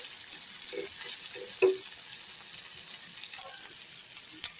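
Okra (bhindi) sizzles softly in a pan while being stirred, a faint steady frying hiss with a few light scrapes and one brief louder clack.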